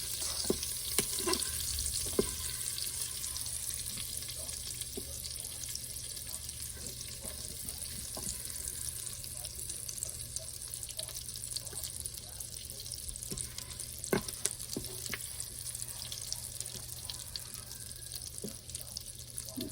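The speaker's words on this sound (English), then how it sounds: "Add these last 2 tablespoons of butter and 2 tablespoons of olive oil." Butter and olive oil melt and sizzle in an Instant Pot on sauté while making risotto, a faint, continuous frying crackle dotted with small pops and clicks.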